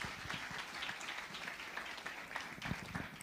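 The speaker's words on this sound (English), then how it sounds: "let's give a warm round of applause for Dr. David Molapo." Warm round of applause for a speaker at a leadership dialogue conference, dense crowd clapping with individual claps standing out, continuous and fairly distant throughout.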